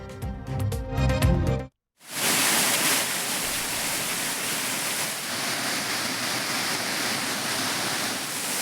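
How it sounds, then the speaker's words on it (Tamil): Floodwater roars down the Courtallam waterfalls in a loud, steady broadband rush, heard close after a short burst of other sound and a brief gap. "குற்றால அருவிகளில் வெள்ளம் பெருக்கெடுத்ததால்"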